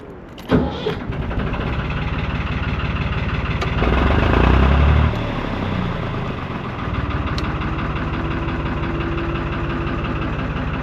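A canal boat engine cranks and catches, then settles into a steady low idle, with a brief surge in revving before it evens out.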